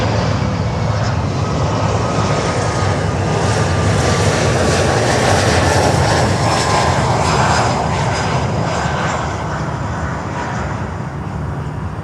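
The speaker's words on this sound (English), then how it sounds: "UPS with the 767 coming in." A UPS Boeing 767 cargo jet comes in to land at Miami airport, its engines a loud, continuous roar and whine that swells slightly toward the middle and then holds steady, with no voices.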